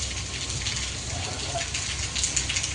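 Steady rain pours down outside a shop, a dense, even hiss of falling water with a low rumble underneath and no voices, holding constant for the whole stretch.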